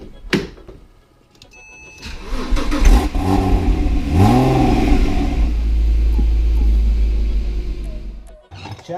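A 2009 Porsche Boxster 987.2 engine starts and revs loudly while warming up, rising and falling through a few throttle blips before settling into a steady, strong idle that then cuts off.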